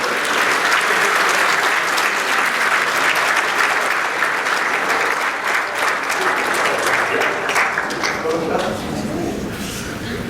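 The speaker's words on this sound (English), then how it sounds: "Please join me in a nice round of applause for the seniors from the baseball program." Luncheon audience gives sustained, even applause for senior players from a college baseball program; dense clapping fills the room for about ten seconds before easing off slightly.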